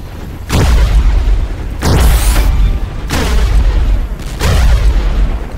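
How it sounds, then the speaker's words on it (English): The starting cannon in the video game World of Robots fires four heavy booming shots, roughly one every 1.3 seconds, each loud and close with a short decaying tail. "This is the cannon that you get in the beginning of World of Robots."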